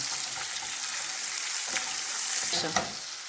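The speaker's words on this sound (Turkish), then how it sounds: "Biraz da kıymayı kavuralım. Salçasını da ilave ederiz." Ground meat frying in a pan with tomato paste, a steady close sizzle with occasional scraping stirs and a sharper crackle near the end.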